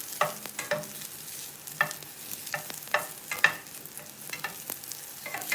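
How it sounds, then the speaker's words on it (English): Plant-based meatballs browning in a frying pan are stirred with a utensil, giving repeated scraping knocks and clacks in an uneven rhythm over a low sizzle, close and without talk. "let's go back to stirring them, stirring them, stirring them, stirring them"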